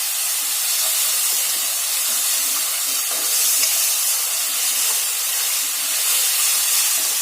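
Chopped onion fries in hot oil in a pot, giving a loud, steady, close hiss that holds unbroken throughout.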